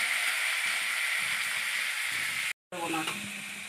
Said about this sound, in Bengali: মাছ কটা একটু ভেজে নি